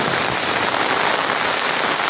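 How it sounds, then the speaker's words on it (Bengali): Heavy rain pours down outdoors, a dense, even roar of drops hitting surfaces close by, continuous and loud with no voices. "ঝমঝম করে বৃষ্টি হচ্ছে"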